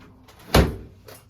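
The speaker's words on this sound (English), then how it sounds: "Shut that door" A single door shuts with a solid thud, fairly close, followed by quiet room tone.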